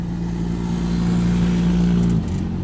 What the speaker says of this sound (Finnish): Moottoripyörät vissiin päästetään eeltä.